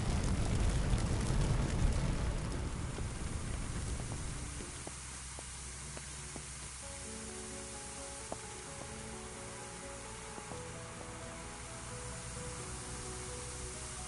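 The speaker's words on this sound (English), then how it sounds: "Okay, you know the drill. Grab a hose and put out the fire." A fire hose sprays water onto a fire in Firefighting Simulator's training facility, a loud broad hissing rush for the first few seconds that drops to a softer steady spray under faint background tones.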